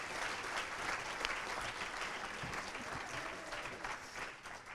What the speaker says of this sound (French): On peut également les applaudir.